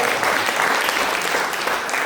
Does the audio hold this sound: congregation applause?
yes